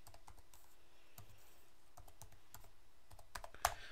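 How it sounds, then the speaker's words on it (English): Quiet typing on a computer keyboard, a string of light, irregular key clicks close by, ending in a sharper keystroke. "type ipconfig here."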